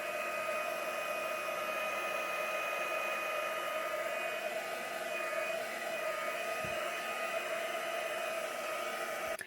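Hair dryer blowing on wet acrylic paint, a steady loud whine and rushing air that runs unbroken and cuts off at the very end.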